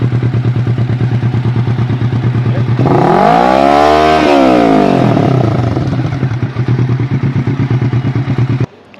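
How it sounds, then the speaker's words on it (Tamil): A Kawasaki Ninja 650 fitted with an IXIL full exhaust system idles with a loud, lumpy throb, then revs up sharply and falls back before settling to a rhythmic idle and cutting off. "இதான் IIXILோட சவுண்ட் எப்படி இருந்துச்சு எக்ஸாஸ்ட்?"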